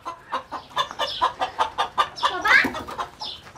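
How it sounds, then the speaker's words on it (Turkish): An aggressive rooster clucks and squawks repeatedly up close in rapid, uneven bursts, loud and mostly alone, with no talk over it. "Arkadaşım sen öfkeli bir horoz musun?"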